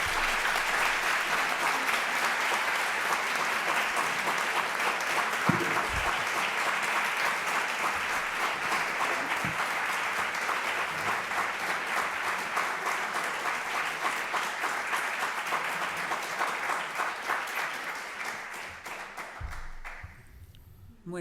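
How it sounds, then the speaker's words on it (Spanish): Sustained applause for a thesis presentation at a university, a long even roll of many hands clapping that holds steady before thinning out and stopping near the end. "estos aplausos demuestran que esta tesis va muy bien"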